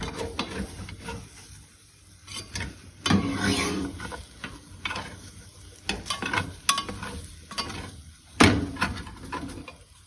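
A spatula scrapes and stirs browned onions and potatoes in an oil-free hash brown pan, giving irregular close scraping strokes and clatter over a soft background sizzle, with no one talking.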